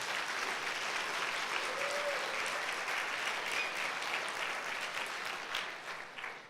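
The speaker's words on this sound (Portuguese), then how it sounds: "Pode aplaudir o Senhor." A congregation applauds during a Sunday church service, a broad, continuous wash of clapping that holds steady and then thins out at the end.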